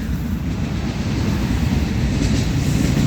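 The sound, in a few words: train passing beside a park in Portugal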